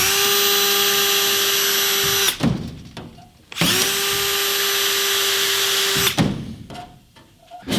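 Power drill boring holes through a bus's sheet metal and into the beam behind it, two long whining runs, each ending in a grinding break-through and a quieter pause, close by.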